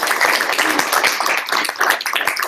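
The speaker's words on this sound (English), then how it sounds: "So round of applause" Students at a union meeting give a round of applause after a vote passes: a dense, steady patter of many hands clapping together, loud and close, with no pause.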